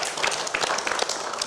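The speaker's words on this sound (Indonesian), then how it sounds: "Boleh dong tepuk tangan." Audience applause at an event honoring Tokyo 2020 Paralympic athletes, a dense, steady patter of many hands clapping throughout, fairly close and continuous.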